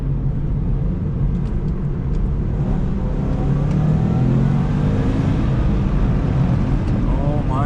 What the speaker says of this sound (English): Feel that turbo kick in and that's it.